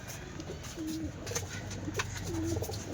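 Pigeons cooing in a pigeon loft, low rolling coos repeating a few times at moderate distance over a soft ambient hum.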